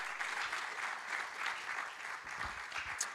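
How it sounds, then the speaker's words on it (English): Conference audience applause at a digital assets summit in Africa, a steady, moderately distant wash of clapping that lasts throughout without any talk over it. "A round of applause, Francis."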